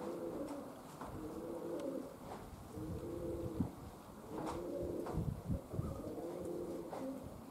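A pigeon coos in low, repeated rolling phrases, rhythmic and fairly close, over quiet outdoor background noise with no talking.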